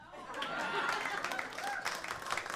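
A burst of audience applause and cheering, dense clapping filling a short stretch with crowd noise mixed in.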